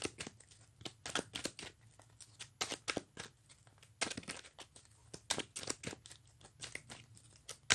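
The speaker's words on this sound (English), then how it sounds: "So we get to shuffle, shuffle," A deck of playing cards is shuffled at close range, a quiet sequence of rapid crisp riffling and snapping bursts in an uneven rhythm with short pauses between them.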